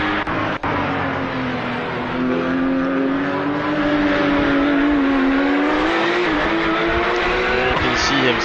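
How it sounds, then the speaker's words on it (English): A Porsche 911 GT America race car at Lausitzring in a racing video game slides with its engine droning loudly and steadily, tires hissing and squealing throughout, while a commentator talks over the constant engine note. "You can see him sliding the back end of that car around."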